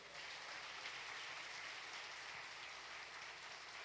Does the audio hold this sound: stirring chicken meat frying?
no